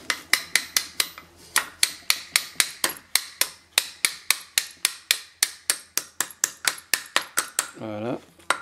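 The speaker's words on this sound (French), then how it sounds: "tu prends après ton petit marteau, enfin ton marteau là, tu tapotes dessus" A small hammer taps repeatedly on a brake caliper piston of a 2006 Mercedes C200 W203 during a rear pad change, giving a steady run of sharp, close metallic knocks with a brief scraping sound near the end.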